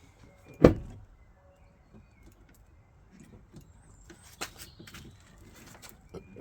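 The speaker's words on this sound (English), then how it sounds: "Look what happens when I open the door." A sharp car door clunk near the start, followed by quiet scraping and rubbing sounds from a panel, with faint thin chirps.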